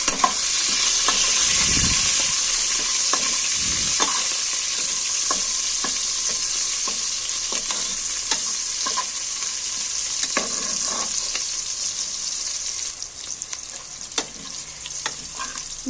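Green chillies sizzle steadily in hot oil for a Karnataka-style tomato bath, with a spoon repeatedly scraping and clicking against the pan throughout; no voices.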